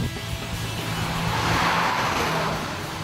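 A Mazda MPS accelerating out of a corner at the Knysna Simola hillclimb, giving a steady engine roar with a faint tyre squeal that swells slightly midway. No one speaks over it.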